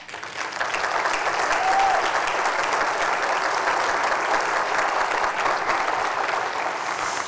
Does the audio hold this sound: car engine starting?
no